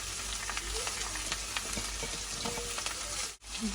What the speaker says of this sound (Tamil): வெங்காயம் வதங்கி கொண்டு இருக்கு. இப்போ பொன்னாங்கண்ணி கீரையை போடுவோம்